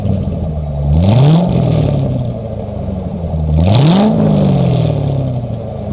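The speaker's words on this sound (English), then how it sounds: "So there you guys go, a couple revs." A Chevrolet Corvette C6 V8 with Speed Engineering headers revs twice, each rev climbing sharply then settling back to a steady, fairly quiet idle, close and fairly loud with no voices.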